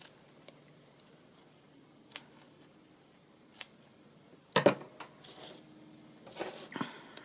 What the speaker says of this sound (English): I might just cut that off there.